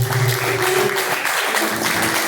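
Steady applause fills a church congregation's live praise service, dense and continuous hand clapping with a sustained tone running underneath, loud and close throughout.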